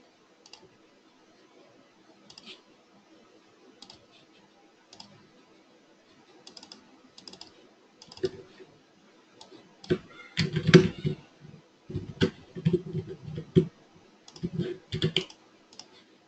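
Computer mouse clicks and keyboard taps sound at a desk while working in a WordPress admin backend: sparse, quiet single clicks at first, then a denser, louder flurry of rapid clicks and taps.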